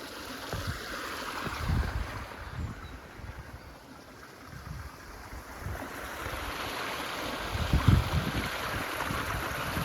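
Water rushing and surging at Battery Bay on the Isle of Wight Undercliff, a steady near wash like surf or a flowing stream with a few louder swells, heard alone without talk.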